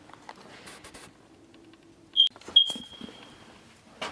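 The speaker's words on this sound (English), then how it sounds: "There's a fire alarm in this room," A fire alarm in an abandoned 1920s power plant gives a short high electronic chirp, then a longer steady beep, over a quiet, faintly noisy room.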